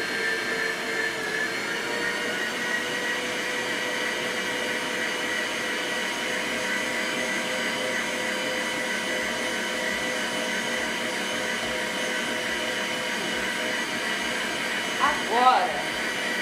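An electric mixer beats cake batter with sugar for a fluffy Maria mole cake, a steady close whirring drone that runs throughout, with a brief voice near the end.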